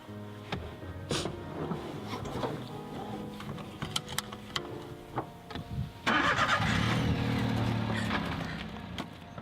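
A car engine cranks and catches, then idles steadily at close range, preceded by clicks and small handling knocks, with no talk over it.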